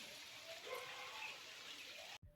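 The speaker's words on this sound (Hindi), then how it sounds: "फिर ये देखो बारिश हो रही है" Steady rain patters on a rooftop in a dense, even hiss that cuts off abruptly near the end.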